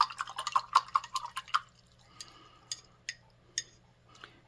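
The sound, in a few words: paintbrush being rinsed in a water jar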